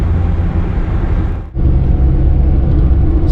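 A car drives through a motorway tunnel about 3 km long on the Hazara Motorway (M-15) near Mansehra and Thakot, making a loud, steady engine and road roar. It dips briefly in the middle, then the dense rumble returns.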